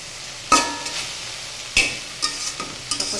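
Jute leaves stir-fried in a pan for a vegetarian dish, heard as a few sharp spatula scrapes and stirring clatters over a soft, steady sizzle, close and moderately loud, with no talking.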